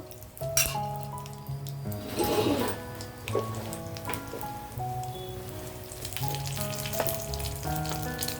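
Chana dal, cumin, coriander seeds and four dried red chillies frying in hot oil, giving a steady crackling sizzle with sharper pops, over a tonal background hum.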